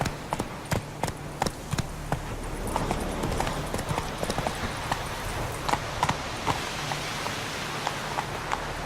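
Roach, a horse in The Witcher 3, gallops with a steady, fast drumming of hooves, sharp regular clops close by over a soft rain-like wash of ambient noise.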